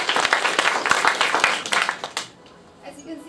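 A room audience at a speech on the Indian sari breaks into dense, loud applause that fades out after about two seconds, leaving quiet talk in the background.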